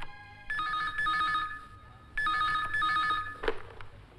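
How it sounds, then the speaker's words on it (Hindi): An office telephone rings in a Hindi action thriller, two long electronic trilling bursts separated by a short pause, fairly clear, followed by a click as the receiver is picked up. "आपके लिए फोन"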